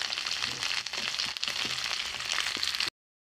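Ivy gourd pieces fry in a pan with onions, a dense, close hiss of hot oil sizzling steadily with small crackles for about three seconds before cutting off, no voices.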